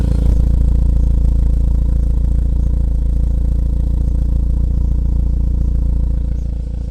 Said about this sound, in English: here's a little warm engine idle for you guys